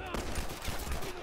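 9mm pistol headshots in The Last of Us video game, a dense burst of loud, rapid gunfire filling a short moment with no pauses.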